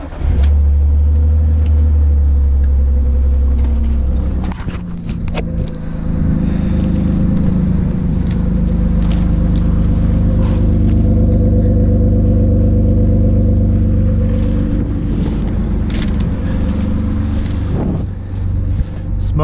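A BMW E39 engine idles after work in the engine bay, a steady, loud low rumble with a brief dip and rev change around the five-second mark, then settles into an even, continuous drone with some wind noise.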